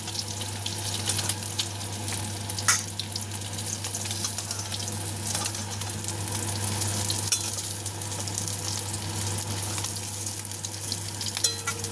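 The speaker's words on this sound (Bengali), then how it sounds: "মাছের পিসটা কিন্তু একটু মোটা বেশি, তাই এটাকে একটু ভালো করে ভাজতে হবে" Steady, dense sizzling of thick fish pieces frying in hot oil, close and continuous, with occasional clinks of a utensil and no voices.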